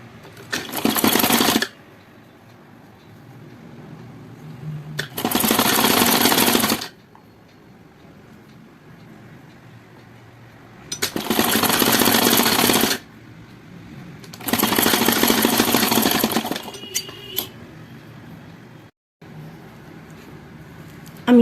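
Stitching along the front neckline of a katori blouse, a sewing machine runs in four loud, even bursts of one to two seconds each, separated by quiet pauses.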